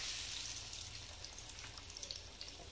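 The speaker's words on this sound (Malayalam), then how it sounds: "ചൂടാക്കി വെച്ച ഓയിലിട്ട ചട്ടിയിലേക്ക് നല്ല ഇങ്ങോട്ട് ഇട്ട് കൊടുക്കുക" Mussels coated in chili batter frying in a pan of hot oil, a soft continuous sizzle with fine bubbling crackles, steady and fairly quiet.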